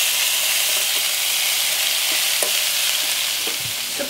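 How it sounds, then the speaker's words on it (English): Lean ground beef frying in butter and olive oil produces a bright, hissing sizzle close up, continuous for a few seconds, with a few soft scrapes as it is moved in the pan. "Now our ground beef here today is lean ground beef, and just put that on in like this and get it start to fry."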